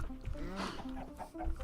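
Chickens cluck in short repeated bursts in Minecraft, moderately loud, with a voice talking over them.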